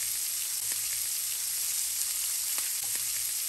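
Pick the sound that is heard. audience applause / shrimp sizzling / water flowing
shrimp sizzling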